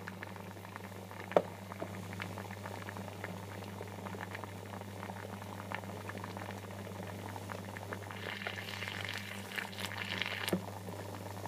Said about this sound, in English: because it's boiling, oh, and it's starting to spray water everywhere